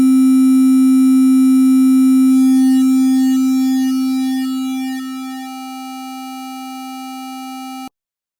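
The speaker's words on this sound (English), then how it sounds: "this sine wave was being systematically distorted and clipped by the quantization" A steady pure sine wave tone rings loud and alone, coarse buzzy distortion from quantization without dither clinging to it, then cuts off abruptly near the end.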